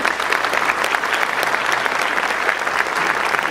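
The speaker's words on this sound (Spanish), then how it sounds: "fuertes aplausos nuevamente para el doctor" Audience giving a speaker a long round of applause after a lecture on socioformative curriculum, steady loud clapping throughout with no talk.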